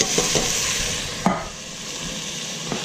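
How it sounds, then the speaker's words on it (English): Tomato sauce stirred in a pot, a spoon scraping and knocking against the sides with a few sharp clicks over a steady background hiss, close and fairly loud. "And we'll give it a stir here and get it kind of going."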